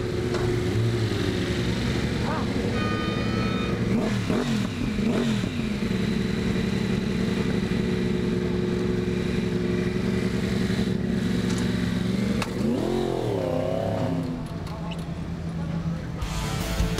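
Yamaha racing motorcycles revving hard at a race start at Oulton Park, a dense sustained engine roar with rising pitch sweeps as throttles open and bikes pull away, loud and continuous throughout.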